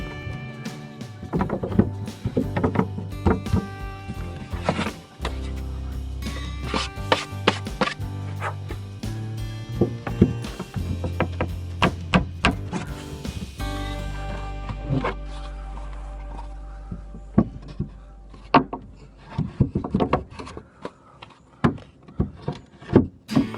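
Hollow knocks, thumps and scraping clatters as scrap plywood crib boards are test-fitted into place aboard a boat, irregular close-up handling noises with brief pauses between bursts.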